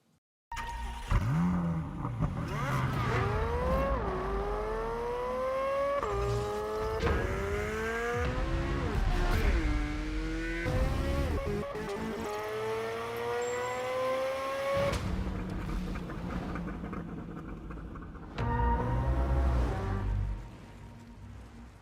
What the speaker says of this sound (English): You see it hitting those apexes and, going around the track.